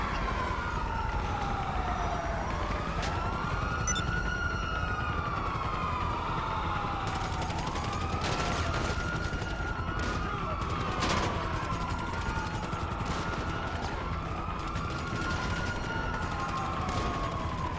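In the game GTA Online, several police sirens wail in overlapping rising and falling sweeps, mixed with bursts of gunfire and a steady noisy background, continuous and loud throughout.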